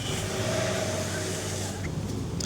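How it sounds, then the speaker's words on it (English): Loud cars pass nearby in a steady, unbroken roar of engine and tyre noise that fills the whole stretch. "some loud cars"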